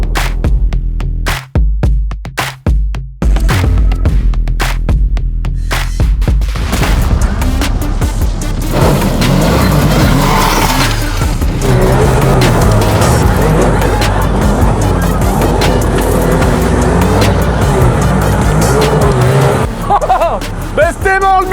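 A buggy engine with a freshly welded chimney-style exhaust revs loud and rough near the listener, after a few sharp bangs at the start, with people talking over it.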